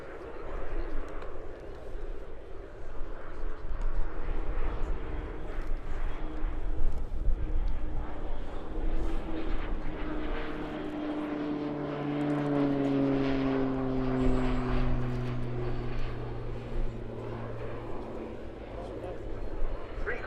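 Slovenian Pilatus PC-9M turboprop rolling with its gear extended during an airshow display, a moderately distant engine whine with rising and falling pitch sweeps under continuous commentary.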